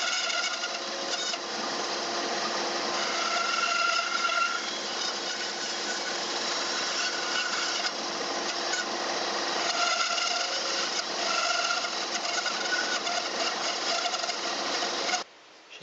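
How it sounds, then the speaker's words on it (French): A band saw fitted with a 6 mm blade cuts a small piece of wood while building a dressing-room partition, giving a steady, close whirring rasp that stops abruptly near the end. "Il reste cette petite partie ici à retirer à la scie à ruban."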